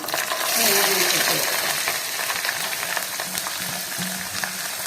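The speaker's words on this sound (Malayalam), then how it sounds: "നമ്മൾ അരിഞ്ഞ സവോളയും ഉള്ളിയൊക്കെ ഇങ്ങനെ വഴണ്ട് വരുവേ" Sliced onions and shallots sautéing with coconut pieces, garlic, green chili and ginger for a clam meat roast, giving a constant crackling sizzle with repeated metallic stirring clinks, no talking.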